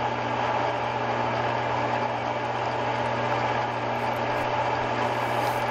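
A metal lathe spins at about 350 RPM while knurling a part, giving a continuous, even motor hum with a steady low drone and no voices.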